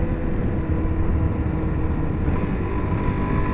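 A 2025 Suzuki DR-Z4S dirt bike engine runs at full throttle in fourth gear, a steady, loud, continuous droning roar that holds an even pitch throughout, mixed with low rumbling wind and road noise.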